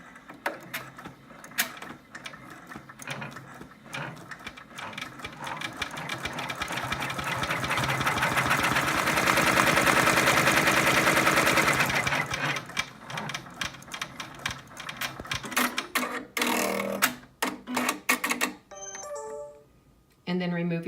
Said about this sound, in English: With your hoop back on the machine and using the thread color you want to stitch out her hair, stitch out step 8 on the stitch map.